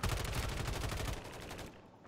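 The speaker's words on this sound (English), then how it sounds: "I just shot the bejesus out of him" Rapid burst of automatic gunfire in a Resurgence-mode shooter game, a dense stuttering volley lasting about a second, then a fading tail; loud and close, with no talk over it.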